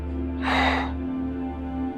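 A single sharp breath, like a heavy exhale or gasp, rises and fades over a steady low hum during a core workout with elbow-to-knee oblique exercises on a mat.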